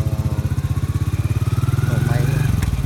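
A Honda Dream motorcycle with a modified LED setup starts and pulls away, its single-cylinder engine thumping in a steady rapid pulse that quickens and rises in pitch as it gets moving, close and loud.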